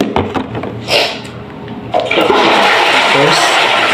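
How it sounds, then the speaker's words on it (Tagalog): A toilet flushing during bathroom cleaning: a few clicks and knocks of the handle, then a loud rushing surge of water that swells and keeps gushing through the end. "flush the toilet."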